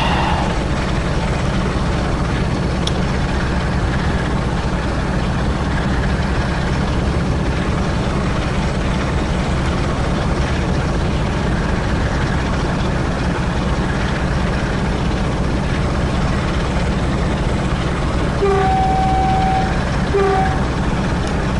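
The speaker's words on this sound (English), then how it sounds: "the sound of the Class 45 roaring away" A Class 45 diesel locomotive in Train Sim World roars steadily with a heavy, low engine drone that holds for the whole stretch, with a few brief tonal whistles near the end.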